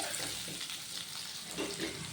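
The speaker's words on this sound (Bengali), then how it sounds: "আলু আর কাঁচকলাটা একই সঙ্গে আমি ভেজে নেব লাল লাল করে" Steady oily sizzle of potatoes and raw banana frying together in a pan over medium flame, close and continuous, with no voices.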